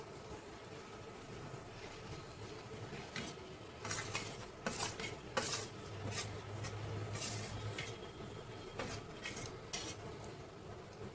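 Samosa filling being mixed with crushed potato in a pot, a spoon scraping and clinking against the metal in irregular bursts over a low steady background hum.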